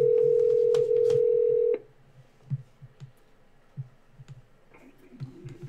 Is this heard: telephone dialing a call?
yes